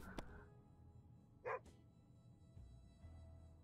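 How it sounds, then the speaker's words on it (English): Pancake the dog gives a single short bark, clear but set back in the mix, over a quiet hum and soft background sounds. "What's Pancake barking about?"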